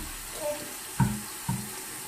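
Water pours steadily from a tap for hand washing, a constant close splashing stream with a couple of small clunks, and no talking.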